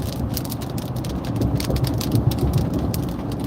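Rain falls steadily on a car during a road trip, a dense patter of drops drumming close on the roof and glass over a low road rumble, with no voices.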